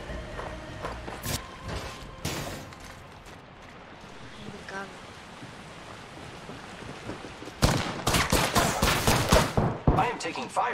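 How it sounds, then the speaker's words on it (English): Gunfire in the video game Apex Legends, scattered shots early and then a dense rapid burst near the end, fairly close and moderately loud over game ambience. "I am taking fire."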